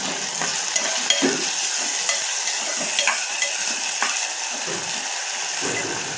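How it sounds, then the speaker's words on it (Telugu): Vegetables with ginger paste fry loudly in a pan, a dense continuous sizzle close up, with scraping stirs and clinks of the utensil against the pan throughout. "చూడండి, ఇవి వేగినాయి. అల్లం పేస్ట్ వేసిన."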